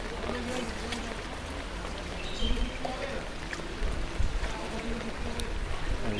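Rainwater floodwater rushes through streets and past flooded shops and house gates in Chattogram, a steady broad churning wash with faint splashes and traffic-like rumble, heard close and continuous throughout.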